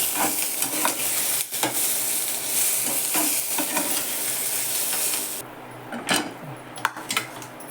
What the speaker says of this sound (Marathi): दोन्ही एकत्र चांगलं भाजून घेते कांदा खोबरं